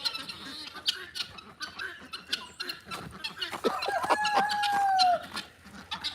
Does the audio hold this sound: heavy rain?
no